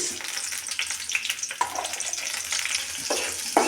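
Chopped onion and dried chillies frying in oil, a dense crackling sizzle with occasional spatula scrapes and pops, moderately loud and close.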